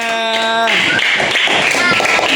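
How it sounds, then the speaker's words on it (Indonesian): Classroom students applaud a group after its presentation, a burst of clapping that starts after a brief tone and continues as dense, close, moderately loud patter for a couple of seconds. "Oke, tepuk tangan buat kelompok 2"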